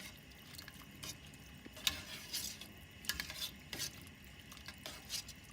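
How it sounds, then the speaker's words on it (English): A spoon scrapes and knocks around a pot of leek and potato soup with leeks and onions, faint repeated stirring clinks over a low kitchen hum, no talking. "Well, you need to stir. Always get everything mixed in with the leeks and onions."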